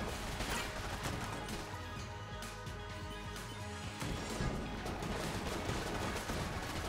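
Dense, continuous barrage of weapon fire from the Crash Cannon in modded Enter the Gungeon, with rapid overlapping bangs and crashes layered over game music throughout.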